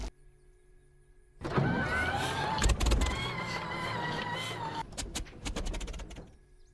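A warbird's engine throttling up in the DCS flight simulator, a steady rising drone that swells suddenly after a quiet start, holds for several seconds, then breaks into choppier bursts as it settles.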